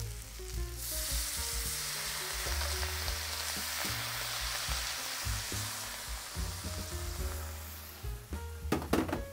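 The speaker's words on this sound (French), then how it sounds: "Et on va faire un petit peu de déglaisage. On va déglacer." Vegetables in a stir-fry pan hiss and sizzle as liquid is added to deglaze, with steady crackling frying and a few utensil knocks and scrapes near the end.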